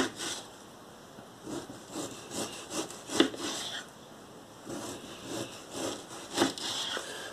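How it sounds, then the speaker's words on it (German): Knife cutting across the grain of a leg of lamb into slices, a close series of soft rasping, sawing strokes with a few sharper accents, no talking. "Jetzt schneide ich gegen den Faser."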